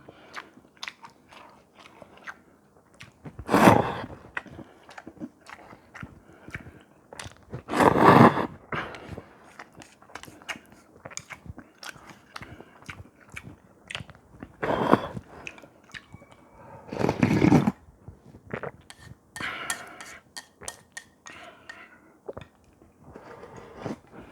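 Close-up chewing and biting of spicy Samyang yeolmu bibim noodles, with several loud crunchy bursts of mouth noise separated by quieter slurps and small clicks, and no talking.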